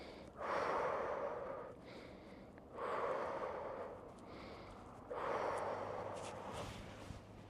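Slow nasal breaths during a fascial stretching exercise class: three long, soft inhales, each followed by a pause, close to the mic with no talking.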